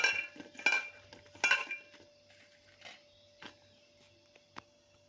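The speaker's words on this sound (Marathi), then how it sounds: "आता आपण सर्व शेंगा यामध्ये ॲड करून छान असं मिक्स करून घेऊया." Spoon scraping and clinking in a pan as drumstick pods are tossed with spice masala and a little oil, a handful of sharp metallic stirring strokes close up, growing lighter and sparser toward the end.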